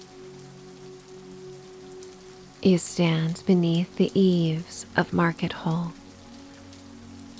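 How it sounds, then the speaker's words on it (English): Light spitting rain falls steadily around a covered market hall, a soft continuous patter that continues beneath a calm narrating voice speaking close and clearly. "sheltered from the spitting rain"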